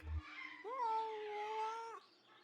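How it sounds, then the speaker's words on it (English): A cat in the Kentucky Route Zero video game gives a single drawn-out, cautious meow lasting over a second, clear and close, with a brief low thump just before it. "Cautious meow."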